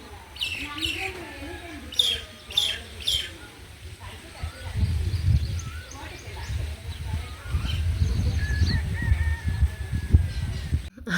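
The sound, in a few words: birds calling on a terrace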